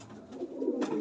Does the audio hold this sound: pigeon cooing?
yes